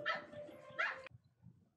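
A dog in the One Piece anime gives two sharp, close barks in quick succession, followed by quiet.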